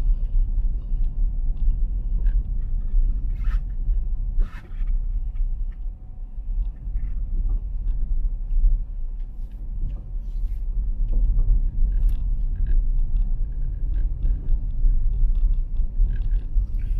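A car driving along a rough stretch of the CALAX expressway near the Kawit Interchange in Imus, with steady low road rumble and tire noise continuing throughout and no talking.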